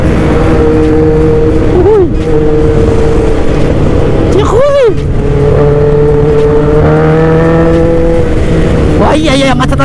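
A Yamaha RX-King motorcycle revs its throttle in traffic, a loud, close engine drone that rises and swells in short surges, with other vehicles and horn-like tones around it.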